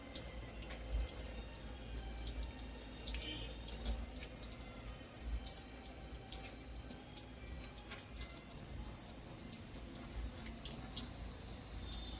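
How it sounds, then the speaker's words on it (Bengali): Pieces of cut fish washed under a running tap, a continuous, fairly quiet rush of water splashing into a sink with small irregular spatters throughout, no voices. "এবারে মাছগুলোকে আমি ধুয়ে নেব।"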